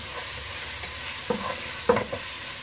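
A paste of coconut, ginger, cumin and salt fries in a pan with a low steady hiss, while a few scraping stirs of a spoon stand out near the middle and end.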